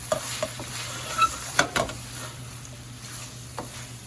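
Lahori kharie sizzles softly in a pan on low heat, a faint continuous crackle with occasional stirring scrapes and taps close by.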